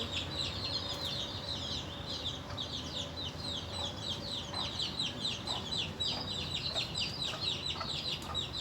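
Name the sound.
chickens clucking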